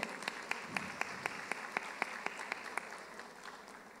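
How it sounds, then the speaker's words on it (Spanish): Audience at a panel session on adolescents' expectations applauding to welcome a panelist, a fairly faint, even patter of clapping with regular sharper claps standing out, lasting about four seconds. "Un fuerte aplauso, por favor."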